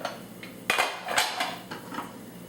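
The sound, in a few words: rice bowl being put onto a plate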